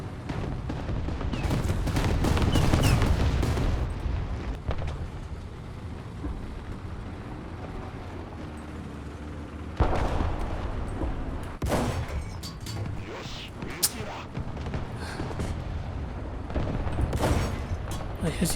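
Tank cannon fire in War Thunder: a booming shot opens loud rumbling battle noise, then another heavy blast cuts in midway, followed by scattered distant shots and engine rumble with a voice talking in between.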